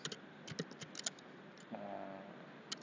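Computer keyboard keys pressed for the Ctrl+C copy shortcut, heard as a quick run of soft, close taps and clicks followed by a brief low hum and one last tap.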